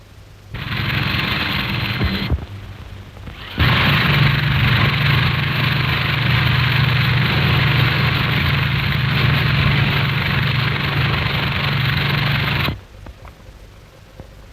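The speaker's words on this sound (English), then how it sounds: "drill a hole in the coal face with an electric drill" Electric drill boring a hole into a coal face in a mine, a steady loud motor whine that stops briefly, restarts and runs continuously before cutting off.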